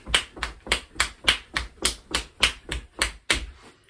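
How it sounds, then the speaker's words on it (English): A fast run of around fourteen crisp, close claps in a steady beat keeps a regular pulse during a home music lesson, with no talking and a final clap that fades away. "we're going to be making a little clap sound like this"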